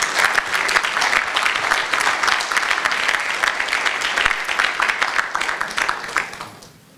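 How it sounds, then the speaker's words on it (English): Gala audience at a chamber of commerce dinner applauding Congressman Al Green, with dense, sustained clapping from a large crowd that holds steady for several seconds, then tapers off at the end. "A big round of applause for Congressman Al Green."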